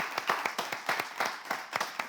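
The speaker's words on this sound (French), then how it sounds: "Est-ce qu'on peut juste déjà applaudir cette grande dame" A studio audience on a French television talk show claps for an honoured woman. The clapping is moderate and close, with rhythmic pulses, some individual hands standing out, and no voices.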